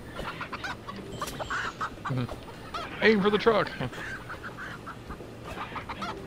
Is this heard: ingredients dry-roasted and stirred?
no